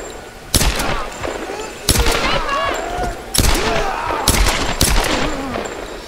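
Gunfire in the action video game Tomb Raider: several sharp bursts of shots ring out at intervals over a continuous game soundscape, with voices and effects in the mix.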